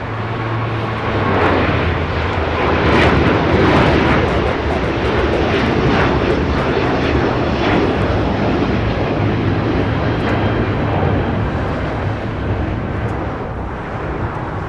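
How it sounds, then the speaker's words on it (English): A China Airlines Airbus A350 landing on the north side at LAX, heard as a loud, steady jet-engine roar that holds for the whole stretch and eases slightly toward the end. "China Airlines A350 landing up there on the north side now, heading over to the gates"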